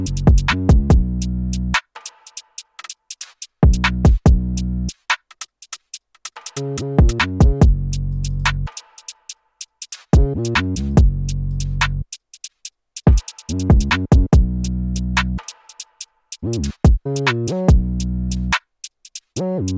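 Programmed drum beat from the Impact drum instrument in Studio One, a punchy pattern of kicks, snares and hi-hats that starts and stops in short sections, with gaps of silence between bars, loud and close with no talking.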